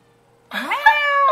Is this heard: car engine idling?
no